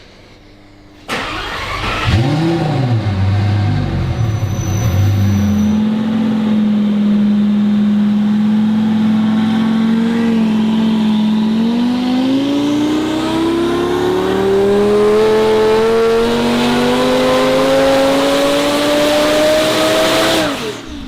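A twin-turbo E85 Lamborghini Superleggera on a dyno starts up loudly, idles, then holds a long pull with engine pitch climbing steadily as it revs, close and dominant with no talk.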